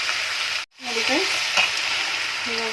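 Tempering being stirred in a frying pan for a ridge gourd palya, a steady close sizzle with scraping spoon strokes and a brief break, no speech.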